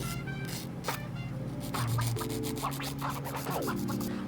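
Natural fingernails being buffed with a nail buffer, a soft close scratchy rubbing in short quick strokes with faint tonal sounds in the background.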